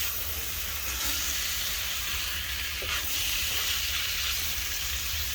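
Nasi goreng fried rice sizzling and hissing steadily in a hot pan while being stirred, a constant loud frying hiss with faint scraping underneath.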